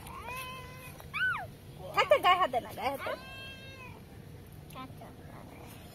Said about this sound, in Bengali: এ বাবা, সত্যি ভয় করে না বিড়ালটা